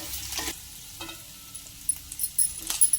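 Egg pieces frying in a pan with salt and pepper, a quiet sizzle broken by a few soft scrapes and taps of a spatula stirring, close up.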